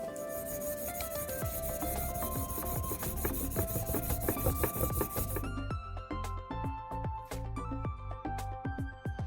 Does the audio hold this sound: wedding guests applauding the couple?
no